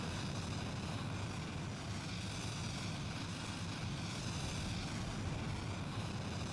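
An Avro Arrow jet roars on full afterburner in the BeamNG.drive video game, a steady dense rushing roar that holds unbroken and fairly faint throughout, with no talk.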